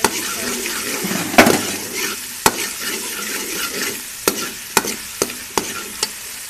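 Ginger garlic paste sizzles in hot oil in a pan for vegetable soup while a spoon stirs it, with a steady frying hiss broken by several sharp clicks and scrapes of the utensil against the pan.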